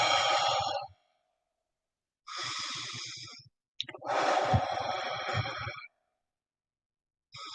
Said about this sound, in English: So I'll take a deep breath.